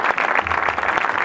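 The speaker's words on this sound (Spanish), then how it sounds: "Un aplauso." Applause from an audience at a cultural association's presentation event, a dense steady wash of clapping filling the whole moment with faint crowd murmur beneath.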